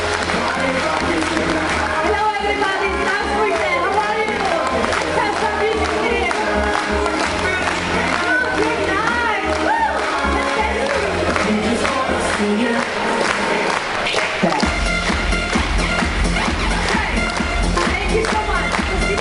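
Audience applause welcoming a speaker onto the stage at a presentation event, dense sustained clapping and crowd noise mixed with loud music, continuing at full volume for about twenty seconds.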